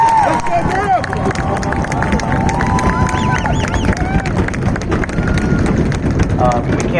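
A large outdoor crowd at a marching band send-off performance makes a dense, loud hubbub of voices with cheering and scattered whistles, sustained throughout with no pauses.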